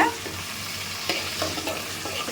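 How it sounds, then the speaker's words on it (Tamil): Garlic and onion fry in a pot for a fish curry with drumsticks, giving off a continuous sizzle. Several scraping stirs run through it, with a louder knock at the start and another midway. "பூண்டும் வெங்காயம் நல்லா செவக்கிற வரைக்கும் கொஞ்சம் வதக்கிட்டே இருங்க"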